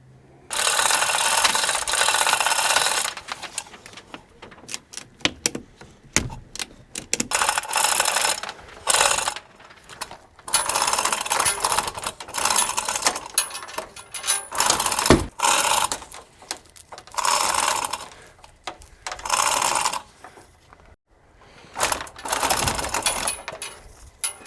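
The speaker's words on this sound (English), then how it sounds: "ratchet straps on here as tight as possible" Ratchet straps are cranked tight on an excavator during cab and tank removal, giving repeated bursts of sharp clicking pawl ratchets separated by short pauses, close and clear with no talking.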